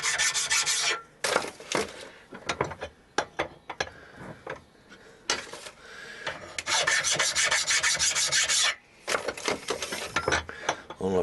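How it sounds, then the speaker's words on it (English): A hand file rasps along the drilled corners of a small metal piece to take off burrs, in repeated back-and-forth strokes with brief pauses between runs, close and fairly loud. "Now I will just run a file along all 4 corners just to take a sharp"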